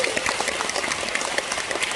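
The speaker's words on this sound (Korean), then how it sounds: "여러분 박수 한번 주셔야 돼요." Dense, crackling audience applause fills a Korean seminar hall during a product presentation, a steady wash of many hands clapping at even loudness throughout.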